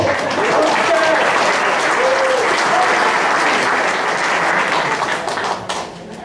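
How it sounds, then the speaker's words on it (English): Sustained audience applause at a general meeting, loud and dense with some voices mixed in, easing off near the end. "Give him a round of applause."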